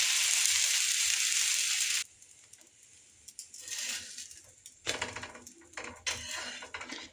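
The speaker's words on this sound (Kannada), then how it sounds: "ನೋಡಿ, ಇಷ್ಟು ಫ್ರೈ ಆದರೆ ಸಾಕು" Leafy greens frying in a pan for a home breakfast, a loud steady sizzle at first that drops away, then returns in softer crackling bursts with some pan clatter.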